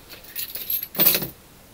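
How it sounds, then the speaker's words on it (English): Keys jangle as they are pulled out of a pocket outdoors, a couple of close metallic rattles building to one brighter clinking burst before going quiet. "Take my keys out."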